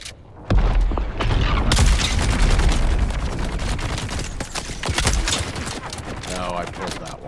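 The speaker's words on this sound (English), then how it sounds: "I can almost snipe with the shotgun" Shotgun blasts in a video game, several loud booming shots in quick succession over dense game noise, with someone talking over the action.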